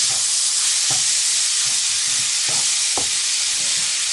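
Ginger garlic paste and turmeric fry loudly in a pan for chicken chettinad, a constant close hiss broken by a few soft stirring scrapes. No one speaks.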